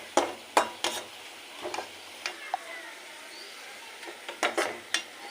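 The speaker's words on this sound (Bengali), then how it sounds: "আমার পেঁয়াজ ভাজি একদম পুরো হয়ে গেছে লাল লাল বাদামি কালার" Onions fry in a pan, with a soft steady sizzle broken by repeated sharp scrapes and clinks of a spatula stirring against the metal, close and fairly quiet.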